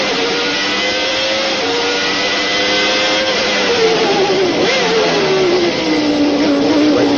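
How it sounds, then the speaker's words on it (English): A 1990 Formula 1 car's Renault engine screams at high revs, pitch rising and dipping through gear changes, loud and continuous, heard onboard. "Let's listen to the sound of this Renault engine as Thierry Boutsen takes us around"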